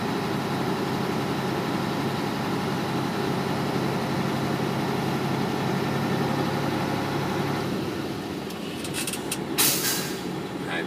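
A Freightliner truck engine idles with a steady, low rumbling drone while building air brake pressure, and a brief burst of hissing and rattling comes near the end.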